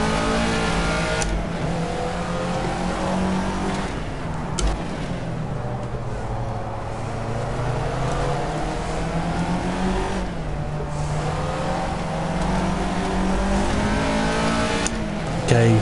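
A Caterham Seven race car engine in the Project CARS racing game on the Monaco circuit, droning steadily and loudly throughout, its pitch rising and falling with gear changes as the car accelerates and brakes, with no voices.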